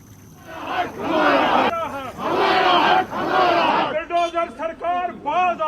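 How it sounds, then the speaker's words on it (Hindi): A large protest crowd in Srinagar chants slogans in unison against a bulldozer demolition drive, loud and close, in rhythmic swelling call-and-response bursts that break into shorter shouted phrases. "JKKT की एक बड़ी सभा ने इस कदम के खिलाफ नारेबाजी करते हुए समर्थन किया"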